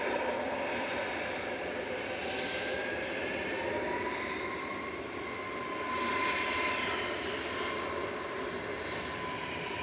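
Airbus A330-300 with Rolls-Royce Trent 700 engines landing at Manchester Airport with thrust reversers deployed, a steady loud jet roar swelling briefly near the end, with no talk.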